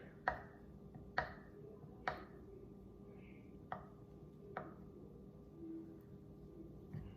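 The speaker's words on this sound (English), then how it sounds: "then we're gonna cut up some butter. I'm gonna use this whole stick of butter" A kitchen knife cuts a whole cold stick of butter into pieces for scones. Several sharp, quiet chops land at uneven intervals against a board, close and isolated in a hushed room.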